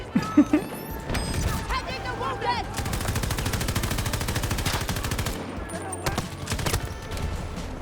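Gunfire in Battlefield 2042: scattered shots and sustained machine-gun bursts, some near and loud, others farther off, with mechanical clatter and a voice talking over parts of the battle.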